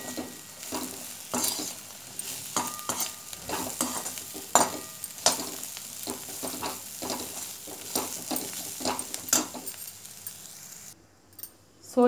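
Sprouts and peanuts stirred in a hot pan, a spoon scraping and clacking against the metal in a steady run of sharp strokes over a light sizzle, close up, with the sound dropping away near the end.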